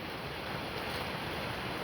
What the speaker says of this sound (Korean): 지금 바람에 물살이 날리지요.